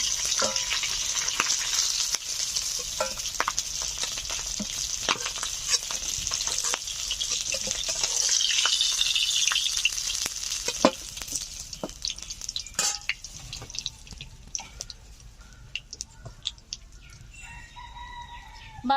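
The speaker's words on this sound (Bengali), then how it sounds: "বাদ বাকি মাথাগুলো ভেজে নিচ্ছি।" Katla fish heads fry in hot oil with a steady loud sizzle and occasional stirring scrapes, while a rooster crows and fowl call in a Bengali village setting near the end.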